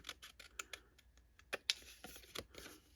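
Scissors snip through craft paper in a run of quick, crisp cuts and light crinkles. The sound is close and fairly quiet, with short irregular bursts and no talk.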